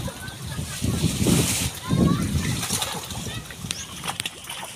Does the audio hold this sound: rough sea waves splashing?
yes